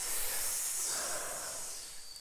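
A breathy, steady hiss voiced by a person imitating a snake, lasting about two seconds, close and fairly loud.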